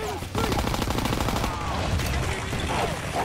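Gunfire in the Call of Duty: WWII video game during a defensive sniper mission, dense continuous rapid shots and bursts layered with battle noise.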